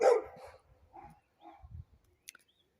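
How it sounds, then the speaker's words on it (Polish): Dogs bark in a spring garden in March: one loud, close bark opens, followed by several fainter, scattered yips and short barks, with quieter stretches between them. "psy nas tu zagłuszają"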